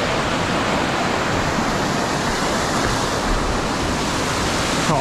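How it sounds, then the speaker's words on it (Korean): Darian Falls, seen from below in cold, strong wind at Sobaeksan, sends out a constant, dense roar of rushing water from some distance, broad and unbroken for the whole stretch with no voices. "지금 다리안 폭포에 도착했습니다"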